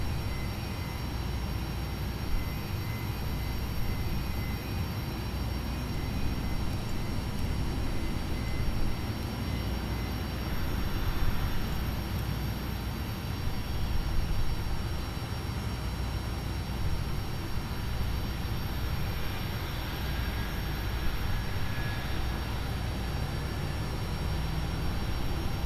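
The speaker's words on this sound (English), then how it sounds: "Engine number 1 up, and start engine number 2." Jet engines on an airliner spool up during an engine start in Microsoft Flight Simulator 2020, a steady, loud, broadband roar with a high whine running beneath it, unbroken and even for the whole stretch, with no voices over it.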